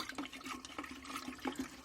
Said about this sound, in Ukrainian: в оприскувач набираю води